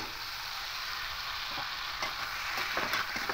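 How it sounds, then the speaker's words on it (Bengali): Fish head and potato chunks drop into spices frying in a pan for a rice-and-fish-head ghonto, giving a steady close sizzle and hiss with a few soft stirring scrapes toward the end. "এবার মাছের মাথা আর আলুটা দিয়ে দেব।"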